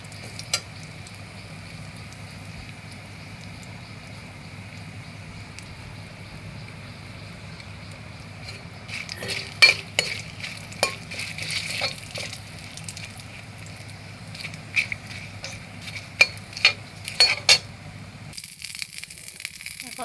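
Dried chillies and two bay leaves frying in hot oil, starting as a quiet low hum, then breaking into bursts of crackling, spitting sizzles that come close and fairly loud, before cutting off near the end.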